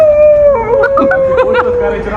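A man imitates a dog's howl with one long, loud, close wavering note, while other voices chatter briefly underneath partway through.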